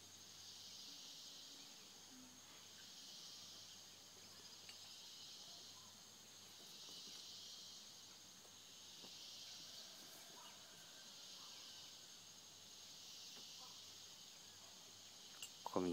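Steady insect chirring in a mountain forest in Costa Rica, a continuous high buzzing drone that holds throughout at moderate level, with faint scattered bird calls and rustles beneath.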